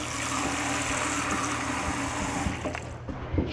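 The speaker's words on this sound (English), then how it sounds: "Let me put some water in here," Water pours steadily into a pot of bone broth in a home kitchen, a continuous splashing rush lasting a few seconds before it tapers off with a few small knocks.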